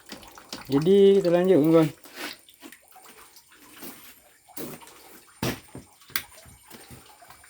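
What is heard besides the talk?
water running from hillside pipe in kitchen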